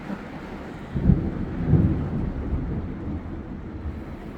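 Thunderstorm with rain outside a tiny house: two low thunder rumbles swell around the first and second seconds over a steady hiss of rain and wind, fairly soft and muffled as if heard from indoors.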